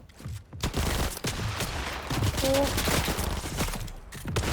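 Rapid gunfire in Fortnite, a loud, dense barrage of overlapping shots and impacts filling the whole stretch with brief gaps, players talking over it.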